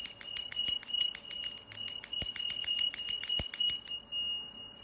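A bright bell rings rapidly and steadily for about four seconds, each strike ringing out high and clear, then fades away.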